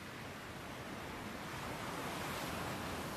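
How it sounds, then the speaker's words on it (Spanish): Sea waves in a cartoon scene out in the middle of the sea wash in a steady, dense roar of surf, even and unbroken throughout with no talk. "Ahora estamos en medio del mar."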